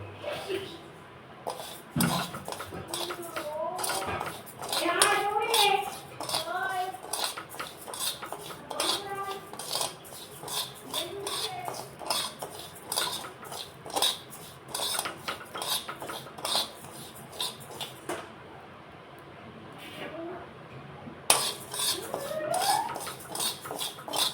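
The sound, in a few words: Gobindobhog rice being dry-fried and stirred in a pan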